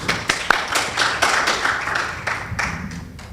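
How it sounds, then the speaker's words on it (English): An award ceremony audience claps in a light, scattered round, with individual hand claps distinct and uneven rather than forming a dense roar, tapering off toward the end. "Let's give them a round of applause."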